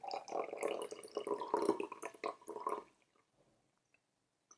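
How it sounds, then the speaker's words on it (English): Second steeping of Japanese mulberry leaf tea poured from a teapot, a close, trickling stream of liquid lasting about three seconds before stopping, followed by a few faint drips in near silence. "Let's pour out the second steeping."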